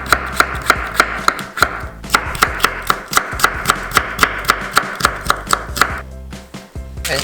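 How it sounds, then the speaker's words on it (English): A knife slicing cucumber on a cutting board while prepping vegetables for Korean cold ramen: a fast, steady run of crisp, close chopping taps, briefly pausing a few times and then resuming. "Cucumber, okay, slice it."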